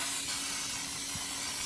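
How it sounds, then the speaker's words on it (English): Baking spray hissing from a can onto a fluted tube cake pan, a steady close airy spray lasting under two seconds, heard alone. "But you get the most beautiful crust when you use a spray."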